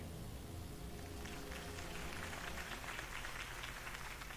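Crowd applause in a Batman video game after a Harvey Dent campaign speech, a steady wash of clapping that swells slightly and holds at a moderate level.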